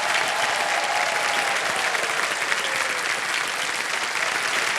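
Sustained applause from a studio audience on the KBC quiz show, a dense, even wash of clapping hands that holds steady for several seconds.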